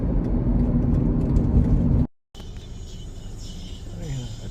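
Road traffic in Dubai: a steady, fairly loud engine drone and low rumble from a car in congested traffic, cut off by a brief silence and then continuing more quietly.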